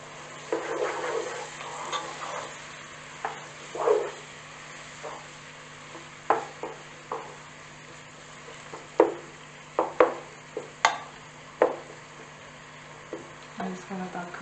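Heaped teaspoons of garlic fry in a pan for pizza sauce, making a steady close sizzle broken by scattered ticks and scraping stirs, with a voice talking over it at times.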